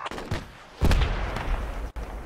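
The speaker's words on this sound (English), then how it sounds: "I got RPG'd." An RPG explosion strikes the player in Project Reality on the Sahel map, a sharp, close blast followed by a rumbling tail and scattered distant gunfire.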